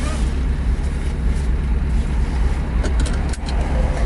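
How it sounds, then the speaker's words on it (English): Imported Nissan Figaro driving down a residential street, heard from inside the cabin as a constant loud low engine and road rumble with a brief bump near the end, no speech. "I'm just gonna take it down my street and see how it rides"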